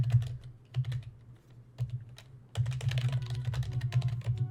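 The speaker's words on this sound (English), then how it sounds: "I'm typing on an ergonomic keyboard" Keys clatter on an ergonomic computer keyboard in quick irregular bursts, close and clear over a low steady hum, with a brief pause before a denser run of typing.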